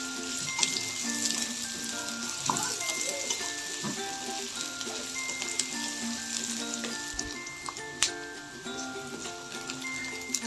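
Onions sizzling in a frying pan for a South Indian style fry, a steady soft crackle and hiss with small pops and occasional clinks, no voices.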